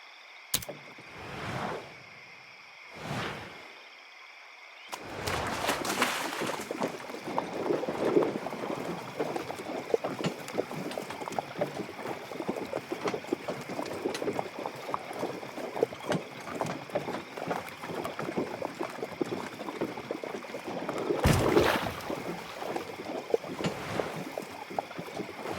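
A wagon party crosses a river in The Oregon Trail on Apple Arcade. Two soft swells come first, then continuous splashing, rushing water carries on, with a louder surge of water near the end.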